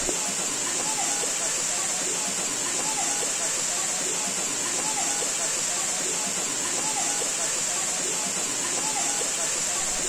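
A waterfall cascade on a mountain trail in Tolima roars as a steady, dense rush of falling water, loud and continuous throughout with no break.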